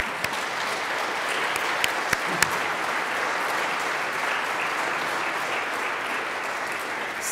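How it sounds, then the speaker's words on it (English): An audience at a university memorial service gives sustained, even applause that fills a large hall, with a few sharper claps standing out near the start. "you can stand up and we'll applaud you now"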